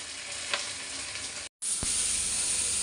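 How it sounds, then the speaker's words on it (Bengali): Eggplant sizzles in a pan, a steady, close frying crackle with a few sharper pops, interrupted by a brief dropout before the sizzle resumes just as strong. "বেগুন একটু ভাজা নিচ্ছি,"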